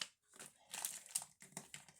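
Small plastic bags from a diamond painting toolkit crinkle close by in quiet, irregular bursts of rustling and crackling.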